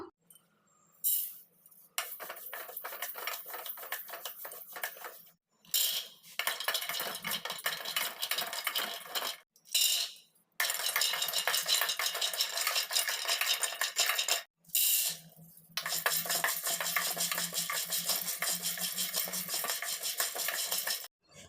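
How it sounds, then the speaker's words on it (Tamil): Peanuts, almonds and cashews dry roasted in a pan for black rice laddu, with repeated bursts of scraping and stirring as the nuts rattle against the metal, separated by brief pauses. "வெல்லம் தவிர இந்த நாலு பொருட்களையும் தனித்தனியாக வறுத்துக்கலாம்"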